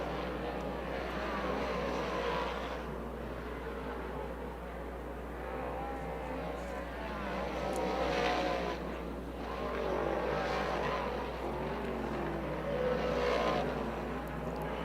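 Dirt modified race cars run hot laps at Bridgeport Motorsports Park, their engines a distant, continuous roar that swells and fades as cars pass, with a voice talking over the noise.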